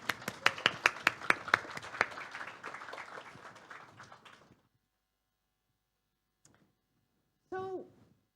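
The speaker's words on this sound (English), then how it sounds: "I think she deserves a round of applause now." A small audience gives brief, sparse applause for a Nobel laureate. A handful of distinct claps fade out after about four seconds, followed by near silence and a short voice at the end.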